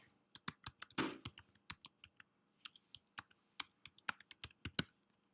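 Typing on a computer keyboard, a fast irregular run of crisp key clicks with one brief louder clatter, close and clear against a quiet background.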